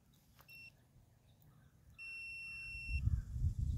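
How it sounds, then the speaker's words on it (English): Two short bursts of high electronic beeping from a powered outdoor cutting tool, one brief and one held for about a second, followed by low rumbling handling noise. "There's a little audio, small little beeps"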